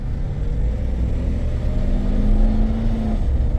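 A GM car with a failing 4L60 automatic transmission pulls away from a traffic light in first gear, its engine droning in a steady low rumble that climbs slightly in pitch as it accelerates, heard from inside the cabin without talk.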